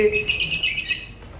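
Lovebirds in a breeding setup in Saudi Arabia, giving high, shrill chirps and tweets close by in a quick overlapping run that fades after about a second.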